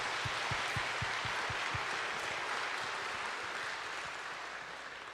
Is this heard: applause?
yes